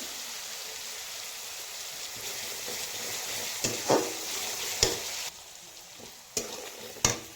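Onion paste with salt sizzles steadily in a pan for a Bengali-style poppy seed fish curry, with a few sharp spatula scrapes and taps standing out near the end, no talking.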